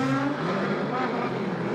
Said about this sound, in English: Coming down in the Facetto Nissan 350Z from Becker